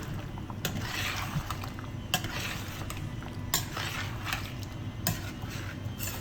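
A spoon scrapes and knocks around a pan as meat vindaloo curry is stirred in a steady rhythm, with occasional sharper clanks over a soft background sizzle.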